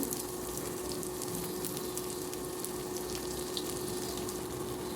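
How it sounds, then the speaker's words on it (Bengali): Cumin, bay leaf, dried chili and chopped onion sizzle in hot mustard oil, a steady close frying hiss throughout with no talking. "গরম তেলে এখন আমি দিয়ে দিচ্ছি জিরা তেজপাতা শুকনা মরিচ পেঁয়াজ কুচি"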